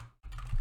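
Soft, faint clicks of typing on a computer keyboard while coding in Unity, a short quiet pause followed by a few light keystrokes.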